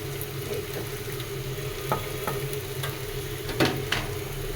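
Meat and bitter gourd fry in a pan with a steady close sizzle, broken by occasional sharp clicks and scrapes of stirring.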